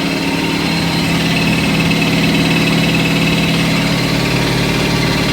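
A Miele W562 Prestige Plus washing machine winds down from its spin, a steady loud mechanical hum and rumble with vibration running throughout, no voices over it.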